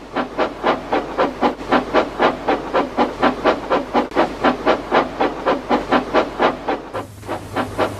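Steam engine Henry chuffing steadily as he gets under way, loud rhythmic exhaust beats with hissing steam, ending in a brief low hum.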